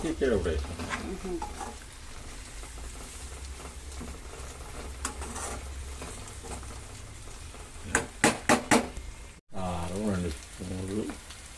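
Chicken frying in a pan with curry leaves: a steady, soft sizzle under intermittent stirring and clattering of a utensil, with brief scraping bursts near the end.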